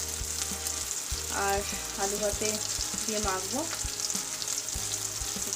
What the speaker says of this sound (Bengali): এই যে পেঁয়াজ টমেটো লঙ্কা দিয়ে দিয়েছি, যেটা ভাজছি